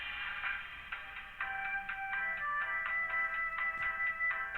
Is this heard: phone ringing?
yes